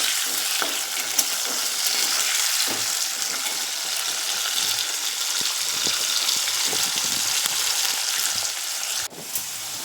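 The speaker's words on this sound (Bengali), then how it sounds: "নুনটা দিয়ে আবারও আলুটাকে ভালো করে নেড়ে লাল লাল করে ভেজে নেব।" Potato pieces frying in oil in a pan with salt added, a dense continuous sizzle and hiss up close, with a spatula stirring and scraping through it in irregular strokes.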